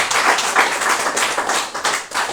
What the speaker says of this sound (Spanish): Dale un fuerte aplauso a ese Rey que vive para siempre.